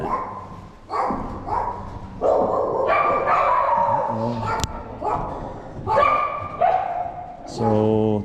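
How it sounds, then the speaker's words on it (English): Dogs barking at a mountain castle in Colorado, a series of repeated barks and yips spaced out over several seconds, moderately close and clear, with people talking nearby. "So, they're dogs. They're dogs somewhere."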